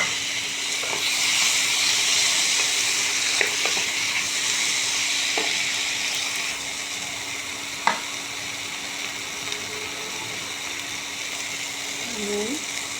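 Chopped tomatoes fry with cumin powder and chili powder in a pan, a steady broadband sizzle running throughout with a few soft clinks and stirring scrapes, and one brief higher squeal near the end.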